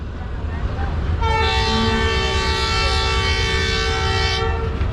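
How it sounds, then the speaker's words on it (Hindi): The Allama Iqbal Express pulls away from a junction platform, its horn blaring in one long, steady blast of about three seconds over a constant low rumble and background noise. "और फाइनली ट्रेन मूव होना शुरू हो चुकी है"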